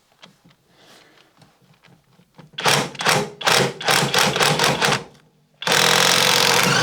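Cordless impact wrench at its top setting in nut-buster mode, removing nuts on a Porsche 924: a few faint taps, then loud rapid hammering bursts in quick succession, a short pause, and another sustained hammering run close by.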